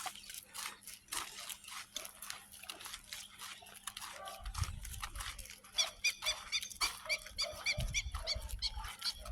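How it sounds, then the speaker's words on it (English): Puppies let out at a dog sanctuary in Chonburi, Thailand, yap and bark in short irregular bursts, some near and some farther off, over low scuffling and splashing. "They just let some puppies out."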